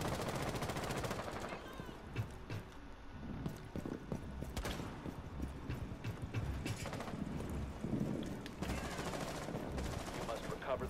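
Gunfire in a Rainbow Six Siege match, with repeated sharp shots and bursts spread through a busy, dense game mix, with voices talking now and then.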